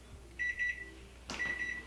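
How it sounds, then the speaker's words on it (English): A kitchen timer beeps in two short bursts of high, steady electronic tones with a brief knock between them, in a kitchen during cinnamon roll dough kneading, with no talking. "the timer went off."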